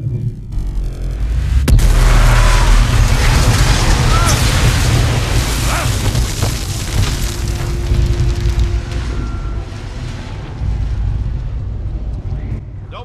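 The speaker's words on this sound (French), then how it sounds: "Ah, il y a une explosion." A loud, deep booming explosion in the video game Mass Effect 3 bursts out early, followed by a long rumbling roar and scattered crackles and debris sounds that persist throughout.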